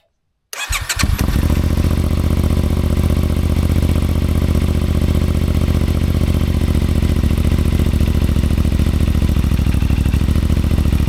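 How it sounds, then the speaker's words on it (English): A CFMOTO 450MT Ibex motorcycle with a custom tune cold-starts after a moment of silence, catching abruptly and settling into a loud, steady, close-up idle that runs evenly to the end. "I'll put in a clip here of what it's like with a cold start"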